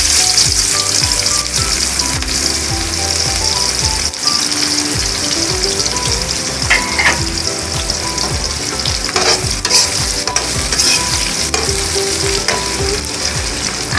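Onions frying in a wok while a vegetable curry is cooked, giving a loud, steady sizzle with frequent stirring scrapes and clinks throughout.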